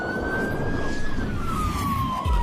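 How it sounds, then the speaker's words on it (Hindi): A police car's siren wails loudly and steadily as the vehicle pulls up, its pitch gliding gradually, ending with a low thump as it comes to a stop. "तभी पुलिस की गाड़ी आकर रुकती है"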